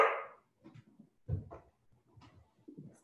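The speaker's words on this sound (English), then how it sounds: "the dogs are ready to play." Dogs indoors give short muffled barks and soft whimpering whines in uneven bursts, close by and fairly quiet, with brief pauses between the yips.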